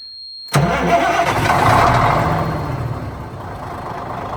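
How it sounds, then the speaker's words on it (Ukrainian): A big Cummins N14 diesel engine in a DAF 95 truck cranks and catches, rumbling up loudly before settling into a rough, steady idle. "Зараз буде запуск Камінс М14"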